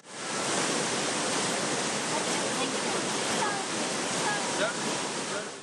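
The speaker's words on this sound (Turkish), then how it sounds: "yaklaşık 20 metreden Aksu Deresi'ne dökülen Kuzu Alan Şelalesi de ilgi görüyor" The Kuzu Alan waterfall drops about 20 metres into the Aksu stream inside a nature park, a steady, loud, broadband roar of falling water with no break.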